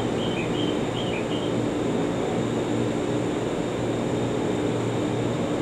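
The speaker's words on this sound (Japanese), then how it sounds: "まもなく4番線に列車が参ります。" A JR 651 series limited express, a seven-car train with a Green car, bound for Naganohara-Kusatsuguchi, sounds at a station platform as a steady loud rumble with faint high chimes early on, with no voices.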